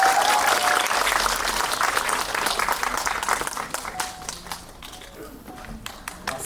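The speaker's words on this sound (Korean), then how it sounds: "큰 박수 부탁드립니다." Audience applause at a Korean film screening and talk event as the actors and director of the film Exit are welcomed, a dense burst of many hands clapping that gradually thins and fades.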